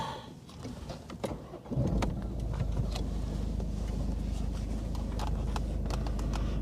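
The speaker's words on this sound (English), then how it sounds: "Right, let's get this car started up." Car engine cranking and starting up during a diagnostic scan tool test, a few clicks and cabin noises before the engine catches near the two-second mark, then a steady low idle rumble continuing close by.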